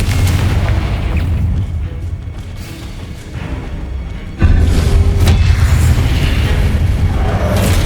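Confringo blast spell explosions in Hogwarts Legacy, heard as loud booming blasts over a rumbling low bed that jumps sharply louder midway and stays heavy to the end.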